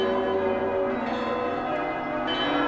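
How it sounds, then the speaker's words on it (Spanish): Several church bells of Kraków ring together in a dense, continuous wash of overlapping metallic tones, loud and sustained with no pauses. "Al poco tiempo, todas las campanas de Cracovia están repicando."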